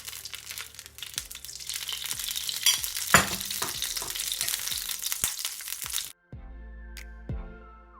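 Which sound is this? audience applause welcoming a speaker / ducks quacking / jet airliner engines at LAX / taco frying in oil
taco frying in oil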